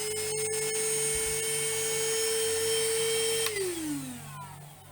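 An Ozito PowerXChange 18-volt cordless shop vac runs with a loud, steady motor whine and rushing airflow, then winds down near the end as the pitch drops and fades, with no voices.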